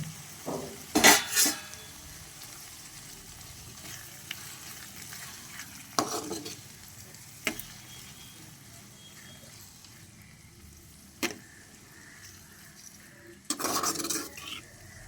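Onions, tomatoes and green chilies cooking in a pan for a fish stew, a low faint simmer broken by occasional clinks and scraping bursts of a utensil against the pan.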